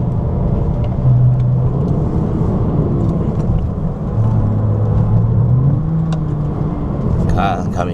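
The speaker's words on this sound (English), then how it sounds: "Car coming out." A Porsche Cayman on G10 suspension rolls out onto a track, a steady engine rumble and whir holding throughout with a brief rise near the end, while a person speaks over it.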